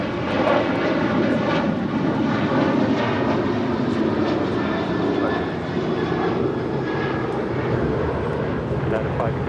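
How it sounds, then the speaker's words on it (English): United Airlines Boeing 737-900ER jet departing Los Angeles airport, a loud continuous engine roar that stays fairly even throughout, with voices talking over it. "This is United Airlines Flight 560 departing to Austin on a 737-900 ER."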